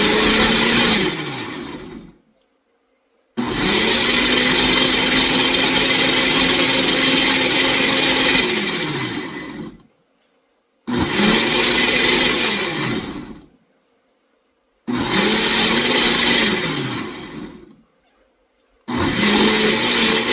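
A countertop blender whirs through Peruvian green sauce in loud, sustained bursts, spinning up and cutting off several times with brief silent pauses between runs.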